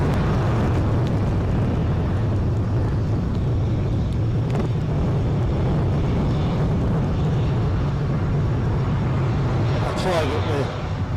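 A British Airways A320 arriving from London Heathrow at Edinburgh, a continuous broad jet roar with a low rumble, steady and fairly loud throughout, over gusty wind noise, with some talk near the end.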